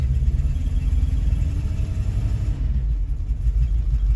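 A 1974 Jensen Interceptor running on only seven cylinders idles close by with a steady, loud low rumble that barely changes, with no talking over it.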